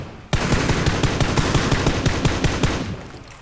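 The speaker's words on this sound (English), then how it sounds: "Shoot it. Shoot the vehicle." Loud automatic gunfire in PUBG is aimed at a vehicle: one rapid, unbroken burst of shots lasting about three seconds, up close and dense.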